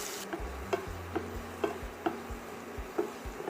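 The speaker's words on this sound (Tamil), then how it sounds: "பிரண்டை பாருங்கள், நான் 10 நிமிஷமாக வதக்கிட்டு இருக்கிறேன்" Pirandai (adamant creeper) being sautéed in a pan for a chutney: a soft steady sizzle with periodic scraping stir strokes and light ticks from the spatula, close and alone without voices.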